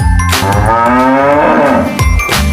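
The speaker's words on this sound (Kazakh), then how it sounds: "Сиыр" A cow gives one long, loud, close moo that rises and falls, with short breathy snorts just before and after.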